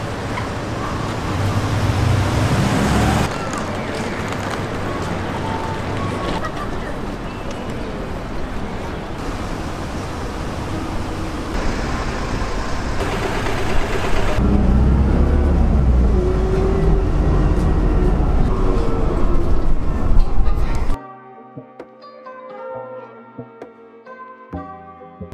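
Steady broadband rumble of a bus ride through Tohoku, Japan, a continuous road and engine drone that holds loud for about twenty seconds before cutting to quiet music at the end.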